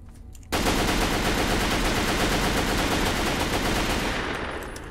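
Rapid automatic gunfire from Fallout 3 erupts after a brief pause and continues loud and steady for several seconds, with a tight repeating rhythm before fading slightly at the end.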